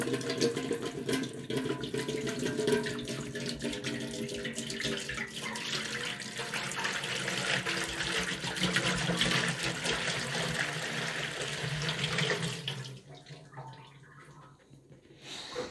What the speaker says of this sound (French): Allez, je vais mettre l'eau.